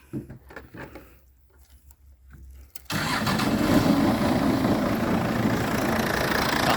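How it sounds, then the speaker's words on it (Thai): A farm engine used to pump water into a freshwater prawn nursery pond cranks and catches about three seconds in, then runs at a loud, steady idle with no talking. "ติดเครื่องเรียบร้อยนะครับผู้ชมนะครับ"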